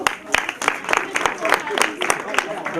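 A group of orphaned children at a thanksgiving gathering in Gabon clap together, a quick run of sharp, close claps lasting a few seconds, with voices mixed in.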